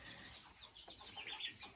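Three white hens resting in 40-degree heat give faint, scattered clucks from a short distance, quiet and brief against soft outdoor background noise.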